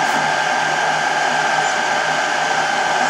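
A Celeritas speed-focused 3D printer with a CroXY carbon fiber frame, running fast during an air flow test, giving a steady, fairly loud whirring hum with no talk over it.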